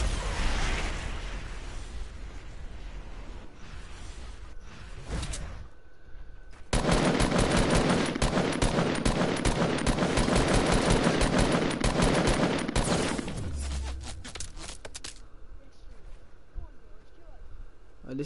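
Rapid automatic gunfire in Fortnite duos, dense bursts of shots with a long loud stretch in the middle and scattered pops before and after, with players talking over it.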